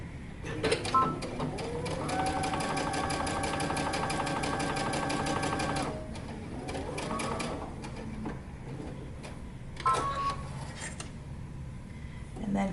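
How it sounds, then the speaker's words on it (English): A domestic sewing machine runs long gathering stitches on dress fabric in a steady rapid mechanical whir for several seconds, then pauses and resumes in shorter bursts, close and fairly loud. "we're going to create some gathering stitches, so use the longest stitch you have available on your machine"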